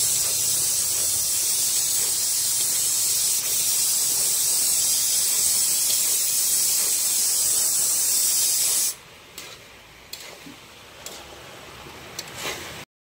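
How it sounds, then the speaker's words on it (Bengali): Pumpkin pieces fry with chili powder and salt in a hot pan, giving a steady, loud sizzle and hiss for about nine seconds before dropping away to quieter scattered crackles and clicks. "আর দিয়ে দেবো এই কুমড়ো। এটা ভালো করে এখন কষে নেবো।"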